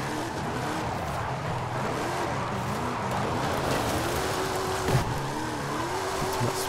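A Toyota Tacoma TRD drift build spins its tires at speed in high gear. The engine drones loud and continuous, its pitch rising and falling, with tire noise sustained throughout and a brief bump near the end.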